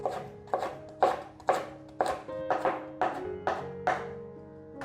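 A kitchen knife slices ginger into thin strips on a cutting board in a steady rhythm of about eleven crisp, close taps, each a sharp chop with a brief woody ring, quickening slightly toward the end.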